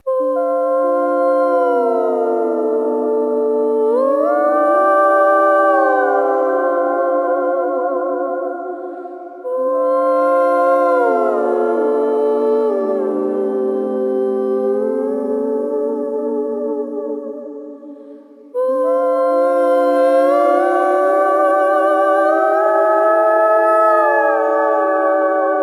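A singing voice runs through a pitch-correction vocal effects pedal with the correction set to glide, so the notes slide smoothly between pitches. It is loud, sustained and harmonic-rich, in three long phrases separated by brief breaks.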